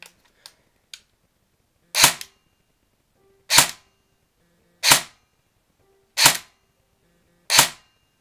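Custom airsoft M4 carbine firing five separate sharp shots roughly a second apart, each a crisp loud snap with a short mechanical tail, preceded by a few faint clicks, with no talking.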